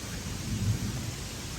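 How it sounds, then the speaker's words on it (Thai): A low rumble of thunder rolls through, swelling briefly in the middle, with a soft hiss of rain beneath it. The storm sounds fairly distant, and no one speaks. "ฟ้าไม่ได้ผ่าเลยฟ้าร้อง"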